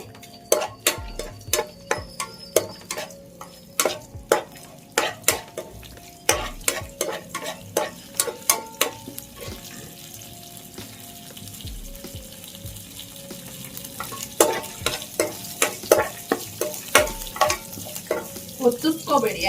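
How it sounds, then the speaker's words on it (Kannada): Spices being stirred and fried on a low flame for a wedding-style chicken dry fry: steady sizzling under a run of regular scraping stirs against the pan, close and alone with no voices. "ಅದಕ್ಕೆ ನಾವು ತಗೊಂಡಿರೋಂತ ಸ್ಪೈಸಸ್ ಹಾಕೊಳ್ಳೋಣ ಲೋ ಫ್ಲೇಮ್ ಅಲ್ಲೇ ಉಳ್ಕೊಳ್ಳಿ"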